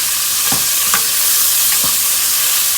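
Fresh tomatoes cooking in a pot of Haitian-style beef stew with potatoes, giving a loud, constant hissing sizzle up close, with a few soft stirring knocks and no voices.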